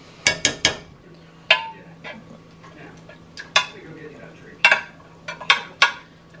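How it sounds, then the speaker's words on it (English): Ragu pasta sauce spooned into the bottom of a pan, heard as sharp, close clinks and taps of a spoon on metal in irregular clusters, with quiet gaps between and a faint steady hum beneath. "I'll put a little bit of sauce at the bottom of the pan"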